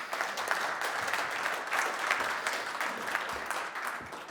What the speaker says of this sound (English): A round of applause, please, for Norman.